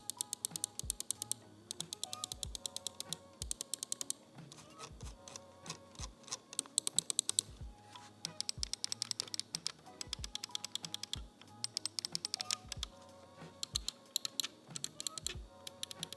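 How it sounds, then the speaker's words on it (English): Redragon M808 Storm honeycomb budget gaming mouse buttons clicking alone in bursts of sharp, rapid, crisp clicks separated by short pauses, close and clear. "As you guys can hear from that sound test, very clicky, nice tactile feel to them, and really responsive and no issues with the clicks so far."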